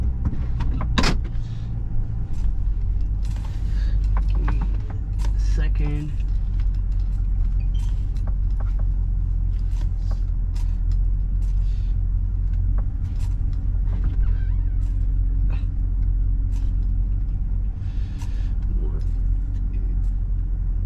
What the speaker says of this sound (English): I had to move my dad's truck now.